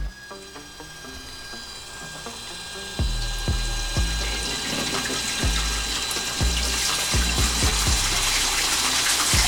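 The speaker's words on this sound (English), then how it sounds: "And all the water drains out the bottom of the van." Water drains out through the bottom of a van after a valve switch is flipped, a steady wash of rushing flow that swells partway through, punctuated by repeated hollow knocks and ratcheting clicks.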